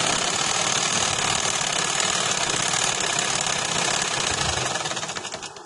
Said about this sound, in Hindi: ये मैं सिलाई लगा रही हूँ इधर